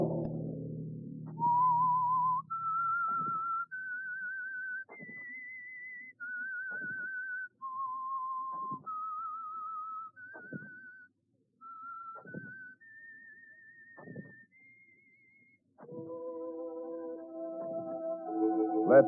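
A radio show theme whistled as a slow, eerie melody of sustained rising and falling notes, each separated by a soft low thump, ending in a swell of orchestral music.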